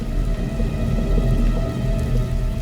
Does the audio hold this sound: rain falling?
yes